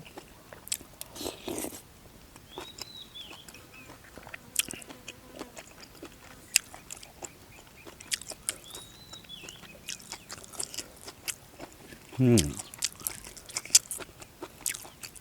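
Crunchy food being chewed close up, a series of irregular soft bites and crunches with faint background noise and no talking.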